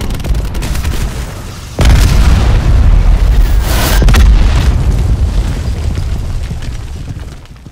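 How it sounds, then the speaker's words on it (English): A booby-trapped care package bomb in a video game goes off with one sudden heavy boom, followed by rumbling blast noise and scattered pops that slowly fade, loud and without talk. "It's a booby trap. It's a bomb."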